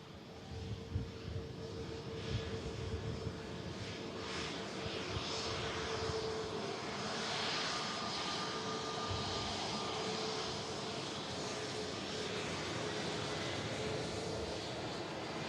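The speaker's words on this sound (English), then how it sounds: "Taxiing in, Terminal 2 here at Manchester Airport." A fixed-wing airliner taxiing in to Terminal 2 at Manchester Airport, a steady, fairly distant engine drone and hum that holds for the whole stretch with no talk over it.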